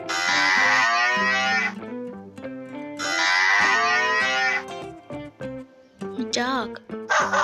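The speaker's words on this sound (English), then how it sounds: "Cow." A cow moos in two long, loud, drawn-out lows separated by a short gap, then quieter snorts and rustling follow, with no talk over it.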